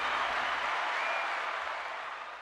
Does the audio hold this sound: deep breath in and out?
no